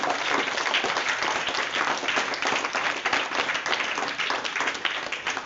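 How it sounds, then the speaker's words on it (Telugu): An audience of yoga practitioners claps hard and fast in sustained, even applause that fills the room without a break. "ఒకసారి మీరు అందరూ కడతాల దండంతో గట్టిగా క్లాప్స్ కొట్టండి"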